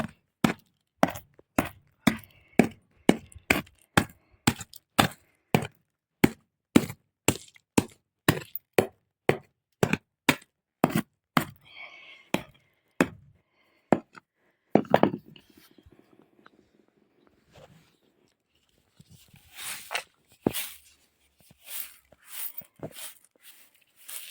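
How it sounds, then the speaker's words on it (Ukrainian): Glass bottles smashed into tiny shards for filling gaps against rodents: a long run of sharp, regular clinking blows, loud and close, slowing and thinning out, then a few scattered scraping crunches of broken glass toward the end. "розбиваю на міленькі-міленькі друзки, щоб було мілесеньке-мілесеньке скло"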